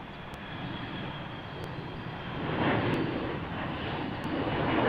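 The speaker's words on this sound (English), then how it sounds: "On our Airbus A321 taking off," A Delta Airbus A321 takes off at Salt Lake City, its engine roar steady at first and then swelling louder as the climb continues, with faint regular ticks above.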